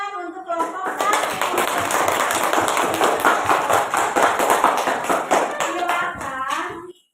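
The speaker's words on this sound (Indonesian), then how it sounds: "tepuk tangan untuk kelompok 1" A classroom of students claps for a group after their presentation, a burst of brisk hand clapping that starts suddenly, holds steady and loud, then stops abruptly; brief voices are heard at the start and end.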